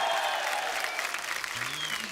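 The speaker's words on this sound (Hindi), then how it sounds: "आप सबकी जोरदार तालियों के बीच बुलाना चाहूंगा कंगना रनौत" Brief burst of studio audience applause on a Hindi comedy talk show as actress Kangana Ranaut is welcomed, dense clapping throughout with a faint voice toward the end.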